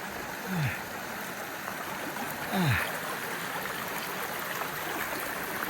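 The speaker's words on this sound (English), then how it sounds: "Really cool stream." A stream on a hiking trail rushes and burbles in a constant, close wash of water, with two brief sweeping tones rising above the flow near the start.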